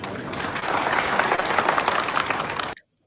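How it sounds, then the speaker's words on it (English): A crowd at a political gathering claps for Senator Aliyu of Sokoto, a dense burst of applause lasting under three seconds before cutting off abruptly. "I hope you can see as they're clapping for him"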